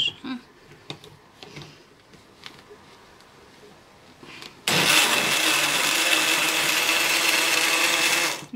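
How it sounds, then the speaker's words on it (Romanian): An electric blender starts suddenly after some quiet handling noises. It then whirs loudly and steadily at close range while blending bananas and oats into a smooth mixture. "Mixăm foarte bine ca să fărăm ovăsul."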